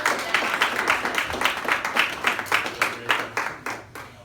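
Workshop audience applauds two women who helped out, a steady run of fairly close hand claps with no talk over it.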